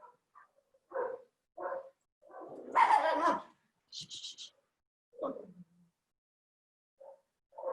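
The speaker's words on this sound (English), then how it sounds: "we have a lot of dogs and the background sound that you can hear. The dogs are barking" Several dogs bark in short, separate bursts, with a few sharper yips mixed in, fairly close with quiet gaps between.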